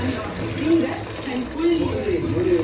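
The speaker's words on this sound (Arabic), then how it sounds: "ننزل بالميه المغليه بقى" Boiling water is poured into a cooking pot for Egyptian fatteh with meat, making a steady, close splashing pour that swells and eases throughout.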